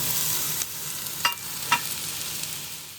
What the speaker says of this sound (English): now I'm doing a quick sear at the end right now